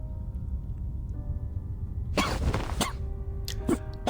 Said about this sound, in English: Hoffman coughs up a mouthful of blood